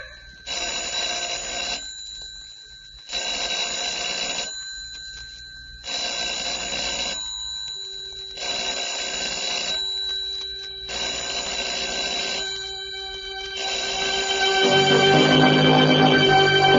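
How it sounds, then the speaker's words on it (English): A telephone rings repeatedly in steady bursts with short pauses between, loud and alone, while a low swelling tone rises beneath the final rings. "Telephone ringing in an empty house."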